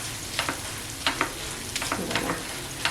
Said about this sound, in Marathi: आता हळद पावडर टाकते आणि गरम मसाला एक दोन तीन मिनिट आहे ना चांगलं असं परतवून घेते